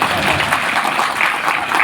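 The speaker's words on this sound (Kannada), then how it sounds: "ಜೋರಾಗಿ ಚಪ್ಪಾಳೆ ಹೊಡಿರಿ ಏನು ತೊಂದರೆ ಇಲ್ಲ" Crowd applause at the Jodi Basaveshwara chariot festival in Udanur village, Kalaburagi, a loud, close, continuous clapping that fills the whole stretch.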